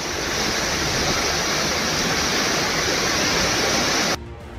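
Heavy monsoon rain on flooded roads in Gujarat, a dense continuous hiss of downpour and rushing water that holds steady for about four seconds before cutting off abruptly.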